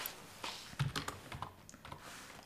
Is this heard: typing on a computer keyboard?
yes